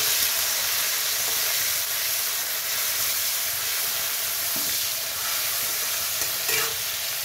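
Shrimp fry in a pan for a Bengali dish, a steady, bright sizzle with soft hissing, close and constant, with a few faint scraping stirs near the end.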